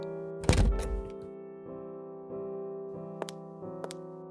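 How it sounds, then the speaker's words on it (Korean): A door opens with a single heavy thunk and a short rattle, followed by faint knocks while sustained tones ring steadily underneath. "그때 문이 열린다."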